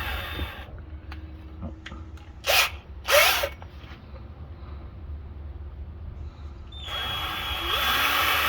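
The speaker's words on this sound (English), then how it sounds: "And hope the drill doesn't run away." A low steady power drill whirring into soft, crumbly forge burner material, with two brief louder bursts of grinding midway and a rising hiss toward the end.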